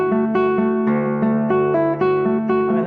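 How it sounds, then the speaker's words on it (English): A classical guitar sounds a short melodic passage with a resonant, growling low D bass note ringing underneath, clear and close with no voices. "that D really growls on the guitar"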